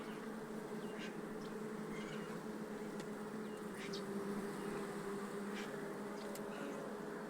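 A swarm of honeybees hangs around a hive box fitted with three frames, giving a steady, soft buzzing drone with a few louder individual bees passing close by; no one speaks.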